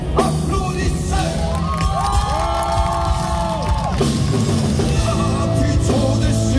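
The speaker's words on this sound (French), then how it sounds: "Mesdames et messieurs, applaudissez!" Crowd at a concert during the Japan Tours Festival 2025 cheering and whooping loudly and steadily, with music and sustained tones running underneath.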